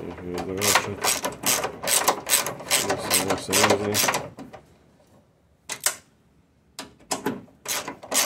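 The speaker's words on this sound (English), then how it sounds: "let me just use the big ratchet" A large ratchet turning a bolt during a broken-screw repair, fast loud clicking strokes in bursts, close up, then a pause and a few shorter clicking runs.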